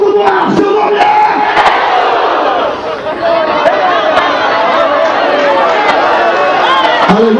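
A 1996 evangelistic crusade congregation roars a loud collective shout, a dense mass of voices yelling together, briefly dipping before surging again.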